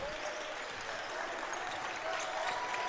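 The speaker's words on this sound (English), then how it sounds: "And the applause is coming from the stands" Distant, steady applause and crowd noise wash down from the stands at a girls regional basketball final in a gym, a soft broadband roar with no distinct individual claps.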